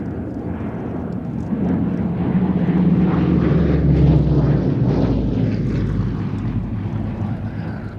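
Hurricane and Spitfire WWII fighter planes at an airshow, a steady loud propeller-engine drone that swells toward the middle and stays continuous throughout, with wind rumble on the microphone.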